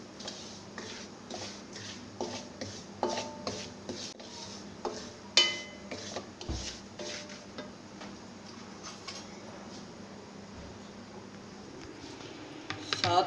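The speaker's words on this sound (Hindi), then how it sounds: "इसको चमचा चलाते रहना है, छोड़ना नहीं कि ये जल जाए" A spoon stirs halwa in a pot over a low flame, giving soft repeated scraping and tapping strokes against the metal, moderately close and steady, with no talking.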